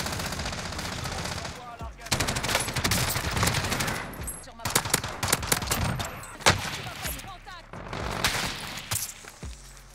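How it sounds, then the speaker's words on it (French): Dense gunfire in Call of Duty Warzone, multiple weapons in sustained automatic bursts and rapid shots throughout, loud and continuous with sharp cracks layered over a busy battlefield din. "Il me tire dessus, gros."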